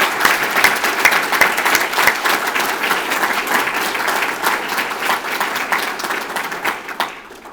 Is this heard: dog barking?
no